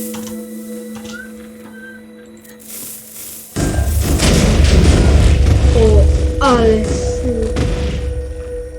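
A video game explosion bursts in loudly a few seconds in after a quiet stretch, a heavy booming rumble that lingers and slowly fades, with brief voices and game tones over it.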